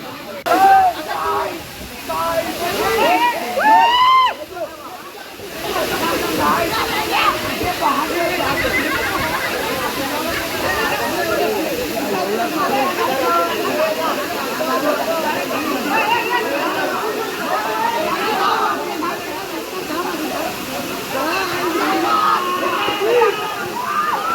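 Nhavankodhe waterfall at Talebazar village in Konkan rushes with a continuous loud hiss and splashing, while people shout, laugh and talk close by throughout.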